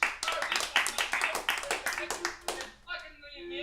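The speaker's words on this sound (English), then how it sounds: "The claps I can hear." Scattered applause from an online open mic comedy show, several quick bursts of hand claps close to the microphone, with a voice speaking briefly at the end.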